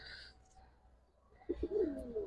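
Pigeons of the Giribaz and coloured fancy breeds in Old Dhaka give a short, close coo that swells in the second half after a quiet stretch, with faint background noise.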